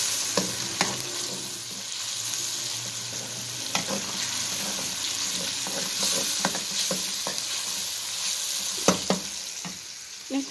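Green chilies frying in hot oil in a home kitchen pan, a soft steady sizzle with occasional sharp pops and spoon-stirring clicks, fairly quiet and close, with no talking.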